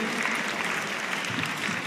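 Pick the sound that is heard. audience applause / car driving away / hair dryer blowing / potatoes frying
audience applause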